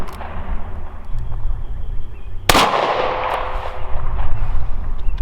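A single sharp, loud gunshot from a Taurus Model 85 .38 Special five-shot revolver cracks out near the middle, its echo lingering over steady outdoor background noise.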